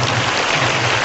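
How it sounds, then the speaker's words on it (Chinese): An audience applauding at a Dharma talk gathering in Singapore, a brief dense wash of clapping that is loud and continuous from start to end. "我说你们鼓掌啊，鼓得太早了。"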